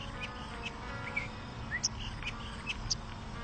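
A small pet bird chirps indoors with a few short, high, faint tweets scattered over steady background hiss, with no talking.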